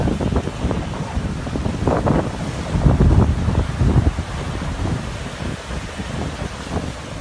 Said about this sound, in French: belle puissance de ce bateau sous voile